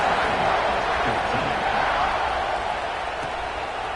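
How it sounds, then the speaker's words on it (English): Stadium crowd in an American football video game roaring as the teams line up for a kickoff after an extra point. A steady, dense wash of distant cheering runs throughout with no clear breaks. "this crowd now ready to get behind them"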